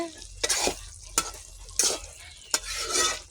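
Potato and Malabar spinach seed curry stirred in a pan, four bursts of scraping and sizzling from a spatula turning the thickened mixture, close and clear with no talk.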